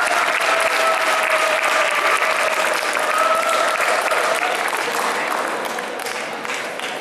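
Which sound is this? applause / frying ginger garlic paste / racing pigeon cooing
applause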